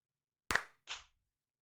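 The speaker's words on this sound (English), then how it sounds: "we're gonna clap before and we're gonna clap after" Two sharp hand claps about a third of a second apart, made at the start of a podcast recording to sync audio; fairly quiet, with silence around them and no talk.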